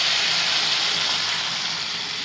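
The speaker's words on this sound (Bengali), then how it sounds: "এবারে জল দিয়ে দিচ্ছি।" Water poured into a hot, scorched wok of curry sets off a loud, dense sizzle and hiss that runs steadily throughout, fading slightly toward the end.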